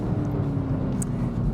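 Chevy Camaro ZL1 rolling out of the pits on a race track, a steady low engine drone, close and constant, with no talk over it.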